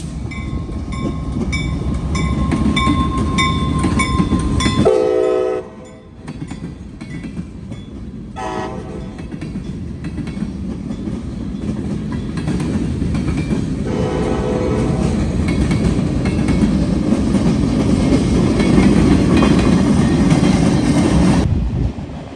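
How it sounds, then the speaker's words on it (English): A northbound CSX local freight train passes Butler Street on the Toledo Sub. Loud, close horn blasts sound over a continuous heavy rumble and the clatter of wheels and wagons. "A CSX local heads northbound at Butler Street, returning to New River Yard"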